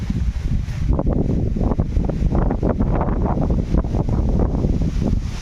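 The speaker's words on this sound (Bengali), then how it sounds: "জোর ঝড় উঠেছে" Strong storm wind blows and buffets the microphone outdoors, a loud continuous roar with gusty surges and rustling, with no talking.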